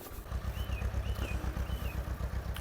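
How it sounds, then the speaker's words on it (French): A tractor engine arriving to turn over the soil on a plot in Poland chugs in a steady, pulsing rhythm, close and moderately loud, with faint chirps above it. "ils viennent avec le tracteur pour nous retourner la terre"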